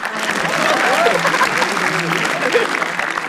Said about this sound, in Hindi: ताली प्लीज।